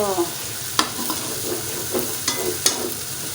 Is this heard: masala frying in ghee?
yes